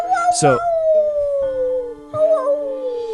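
Several voices imitate wolf howls, long sliding tones overlapping one another, with a short yelp-like burst near the start; loud and close.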